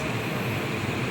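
A train rolling along on its rails gives a steady, close, broadband rumble with a low roar throughout, with no voices.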